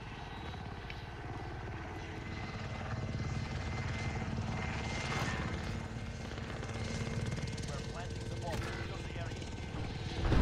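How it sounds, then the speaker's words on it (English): Steady helicopter rotor drone in a video game hums continuously under excited voices, holding at an even level throughout with brief gunfire-like ticks. "your fucking helicopter just killed one on me"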